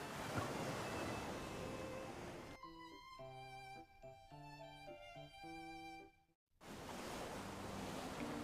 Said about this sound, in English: The waves are so high that they've reached our elevated spot.